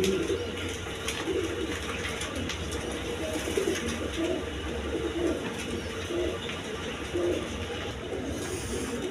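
A group of show-quality pigeons coos on and on in low rolling murmurs, with faint background noise throughout the long stretch.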